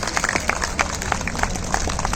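Audience applause in a university lecture hall, a dense burst of many hands clapping at a steady rapid rhythm, moderately loud and close.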